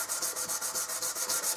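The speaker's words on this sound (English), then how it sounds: "sanding the backs and the sides with some 500 silicon carbide paper" Steady rhythmic sanding strokes with 500-grit silicon carbide paper on the back and sides of an archtop guitar, a dry abrasive rasp repeating about every fifth of a second, close and continuous with no voices.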